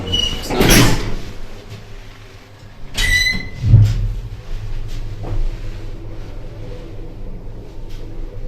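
A Schindler lift's manual swing door in Bergamo opens and shuts with a scraping squeal, a squeaky rattle and a solid thud, followed by a low hum of the car.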